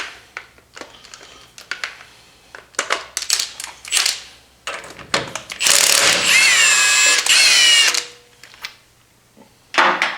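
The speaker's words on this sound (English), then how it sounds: "Milwaukee impact." A Milwaukee impact wrench with a 21 mm socket removes front brake bolts on a 2009-2014 Ford F150: short mechanical bursts, then one long, loud hammering run lasting a few seconds, and a final brief burst.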